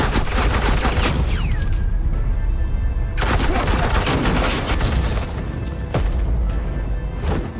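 Dense suppressing gunfire from a video game rattles in loud sustained bursts with booming hits, briefly easing around three seconds before resuming.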